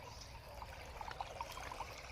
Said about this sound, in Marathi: बघू शकता पाणी